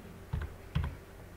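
Two short bursts of computer keyboard typing as elevation values are entered into drainage design software, close and fairly quiet against a faint room hum.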